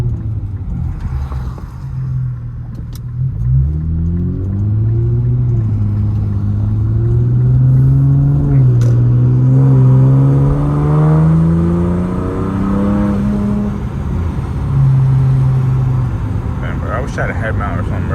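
Infiniti Q50 with new intakes and a downpipe, driving at night from inside the cabin; the engine drones and climbs through gears in repeated rising sweeps, with a loud, steady cabin rumble underneath.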